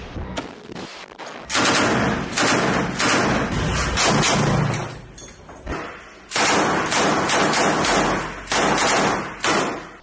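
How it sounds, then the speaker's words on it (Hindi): Machine gun fire in Rafah arrives in loud, close bursts of rapid shots, with short gaps of quiet between the volleys. "अल-कुद्स के लड़ाकों ने एकाएक मशीन गन से आईडीएफ के जवानों पर धावा बोल दिया"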